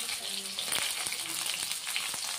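Dried red chillies frying in hot oil while cooking a vegetarian bottle gourd greens dish, a steady close bright sizzle with small crackles and pops throughout, no voices.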